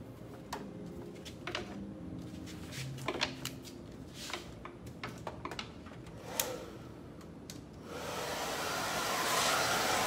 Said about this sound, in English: So let me grab my blow dryer.